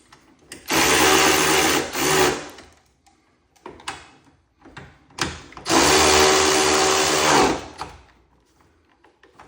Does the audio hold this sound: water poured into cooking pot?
no